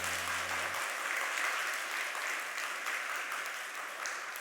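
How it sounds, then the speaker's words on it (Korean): A church congregation at a Sunday worship service claps after a special hymn performance, a sustained, even round of applause heard somewhat distantly as a low tone cuts off at the start. "마음 담아 박수"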